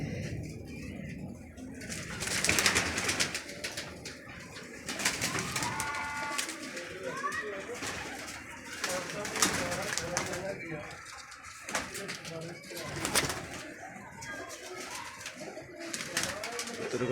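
Eight male pigeons coo in low, throaty bursts close by, alongside wing flutters and rustling, with someone talking at times.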